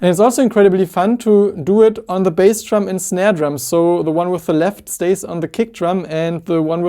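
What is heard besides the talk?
No everyday noise stands out behind the speech.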